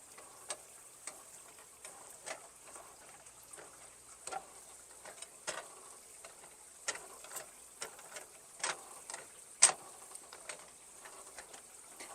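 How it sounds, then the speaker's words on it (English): A meat masher breaks apart ground beef in a hot pan: repeated scraping, clicking strokes at an irregular rhythm over a faint sizzle, close and quiet. "Now I'm just going to take my meat mallet masher and break our ground beef apart"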